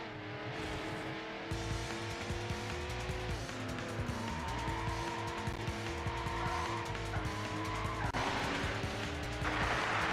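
Racing cars in the PS2 video game Need for Speed: Hot Pursuit 2, with engines revving and shifting through gears alongside repeated tire squeals and skids, loud and continuous throughout.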